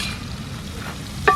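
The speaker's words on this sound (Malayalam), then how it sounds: "നമ്മൾ കുറച്ച് ഇഞ്ചിയും വെളുത്തുള്ളിയും കൂടി ഇടുന്നുണ്ട്." Chopped ginger and garlic hit a hot pan with onion and salt, giving a low, continuous sizzle with faint stirring, ending in a brief sharp clink.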